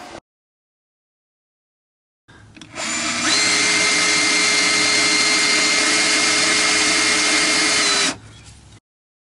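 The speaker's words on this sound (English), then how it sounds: "I used a 9/16 inch drill bit for each of the other holes, which simply marked the hole location in the frame" Power drill boring a hole through the steel frame of a 5th wheel trailer, spinning up after a silence into a loud, steady whine for about five seconds, then cutting off abruptly, close and with no talk.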